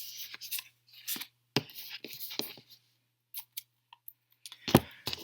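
A deck of tarot cards is shuffled close up, giving scattered soft riffles and sharp card snaps separated by brief silences in a quiet room.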